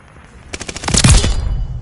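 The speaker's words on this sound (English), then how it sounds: "I'm literally killing these dudes with an MP40" An MP40 submachine gun in Call of Duty Vanguard fires a rapid close burst, loud and rattling, swelling into a dense roar of overlapping shots before tapering off.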